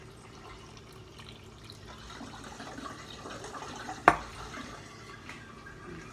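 Water poured from a cup into a vegan potato casserole mixture with salt, juice and chili, a soft liquid trickle building gently, then a sharp clink of the cup or dish near the end, with no talking.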